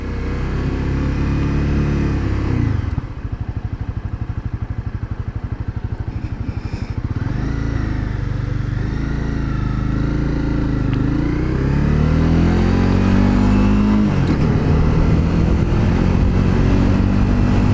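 A motorcycle engine on a sunny-day ride runs loud and close, its drone rising and falling through repeated revs and throttle changes, with rough, stuttering patches and steady cruising stretches and no talking.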